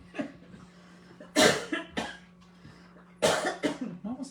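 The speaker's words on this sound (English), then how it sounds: "Mama's still coughing a little bit." An older woman, Mama, coughs in two short fits, each a quick cluster of dry, close coughs, over a steady low hum in a quiet room.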